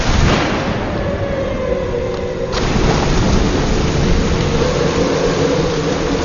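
Steady heavy rain pours throughout a night thunderstorm, with a deep rumble of thunder rolling underneath and a sharp crack of thunder about midway.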